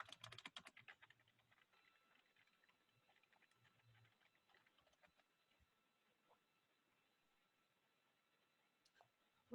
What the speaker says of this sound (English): I'm gonna type here.